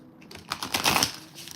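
Crisp papery riffling and flicking of a new oracle card deck's stiff cards, a brief burst of dry clicks and rustles growing louder in the middle, close to the listener.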